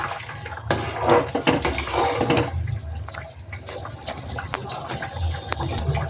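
A curry of egg and gram-flour fritters comes to a boil in a pot, giving a close, continuous bubbling and gurgling with small irregular pops.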